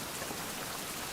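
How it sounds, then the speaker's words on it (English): Steady rain in the survival video game Survival: Fountain of Youth, a dense even patter of raindrops filling the whole brief moment with no other sounds. "How the hell is it raining again?"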